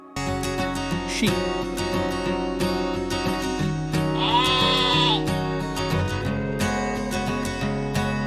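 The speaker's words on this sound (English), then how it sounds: "Sheep." A sheep bleats in a long wavering cry midway through, heard clearly over continuous background music with no talking.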